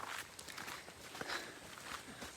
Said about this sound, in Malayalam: നമ്മളിങ്ങനെ നടക്കുകയാണ്.